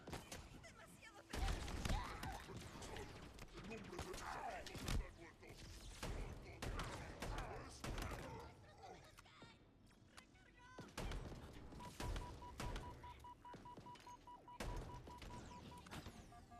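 Weapons fire in the video game Halo Infinite, on heroic difficulty, crackles in repeated bursts and thuds, faint and mixed with game ambience and someone talking.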